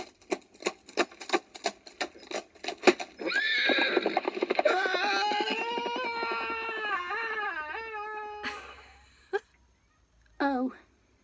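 A horse gives a long, loud whinny that rises and trails off, preceded by a run of rhythmic clip-clopping hooves; a short neigh follows after a pause, all close and clear.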